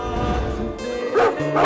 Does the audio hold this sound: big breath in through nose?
no